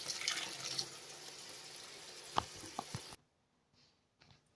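Tap water running to draw water for an aquarium, a steady rushing stream with a few clunks and splashes before it shuts off abruptly, followed by faint quiet sounds.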